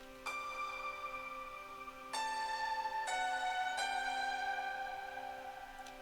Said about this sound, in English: And then here we have this piano fill, which sounds like this.